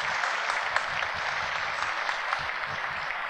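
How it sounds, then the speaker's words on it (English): An audience at a sports awards ceremony applauds for former football star Doug Flutie, a steady wash of clapping with a few louder individual claps, continuous and fairly distant. "Another round of applause, Doug Flutie."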